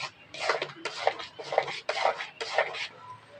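Palm fruit pulp stirred in a pan over heat, heard as about five rhythmic bursts of a spatula scraping and clattering against the metal pan, close and moderately loud with short pauses between strokes.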